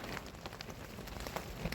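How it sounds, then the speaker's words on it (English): Rain falls during a storm in Torrevieja, a soft continuous patter of drops on surfaces, fairly faint and with no voices. "before I'd even picked them up, it was raining proper."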